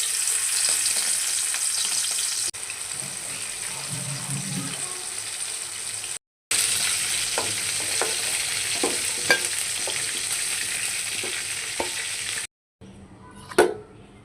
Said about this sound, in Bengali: আমি মাংসগুলো মরিচের গুঁড়া, হলুদের গুঁড়া, লবণ দিয়ে মেখে রেখেছিলাম। এখন ভালো করে ভেজে নেব।